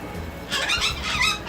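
A cockatoo screeches in loud, harsh bursts, a couple of shrill calls close by in a domestic setting, with no talking.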